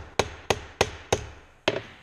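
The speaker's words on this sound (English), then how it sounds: "hammer it a little bit" Hammer striking a sheet metal seam during hand seaming, five sharp close metallic blows, four evenly spaced and a fifth after a short pause with a small rebound tap.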